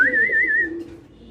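A large pigeon at a Bangladeshi pigeon farm, one of a mealy bar and blue bar pair, gives a single drawn-out coo with a whistling tone, close and clear, fading away within about a second.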